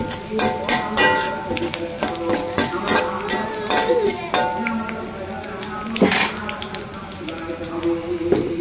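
Whole garam masala (cardamom, cinnamon and bay leaves) fries in a pan for Bengali polao, with a steady sizzle under repeated clinks and scrapes of a spoon against metal.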